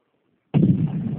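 An explosive charge detonates during combat engineer training at Fort Jackson, a sudden loud blast after near silence, followed by a sustained rumbling roar.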